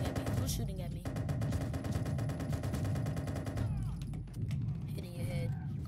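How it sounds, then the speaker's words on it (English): Heavy automatic gunfire in Watch Dogs 2 multiplayer, loud continuous rattling bursts that break off briefly and resume, with a voice speaking over the shooting. "Who's shooting at me?"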